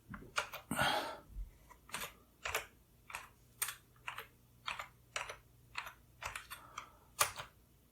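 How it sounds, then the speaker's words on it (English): Commands being typed on a Sinclair ZX81 or QL computer keyboard, about a dozen crisp, evenly spaced key presses close to the microphone with no talking. "I think you can just type navigate."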